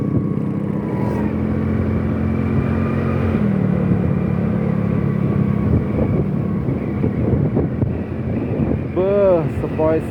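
Wind buffets the microphone while riding a motorcycle along a newly paved country road in Jampang Tengah. It makes a continuous low roar under engine noise, and people talk during the ride.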